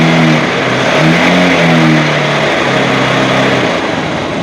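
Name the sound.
Honda Shine motorcycle engine revving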